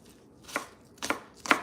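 Three separate knife chops on a cutting board, spaced about half a second apart and close to the listener, cutting food into very small pieces while making spicy chicken teriyaki noodles, with nobody speaking.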